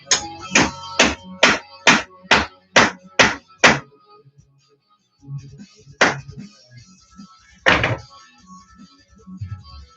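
A hammer drives round-head bolts in during a studio remodel: about nine sharp, evenly spaced blows in quick succession, then a pause and two more isolated strikes, close and loud.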